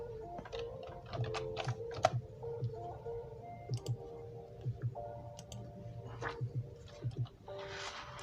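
Fast, irregular keyboard clicks are typed quickly on a computer keyboard over a steady background hum with a faint low rhythmic ticking. The keystrokes sound moderately close, and no one talks over them.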